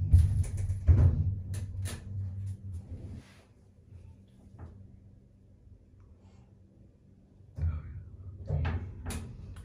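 Oakland lift doors at a Romford shopping centre, with a low rumbling slide, thuds, and a clunk near the start and again toward the end, quiet in between.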